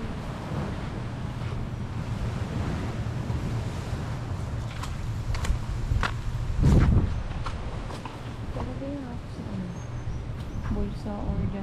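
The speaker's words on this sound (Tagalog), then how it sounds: "Lakas ng alon dito" Strong waves wash against the shore at a beach in Coron, a continuous rough surge with wind buffeting the microphone, and people chat over it.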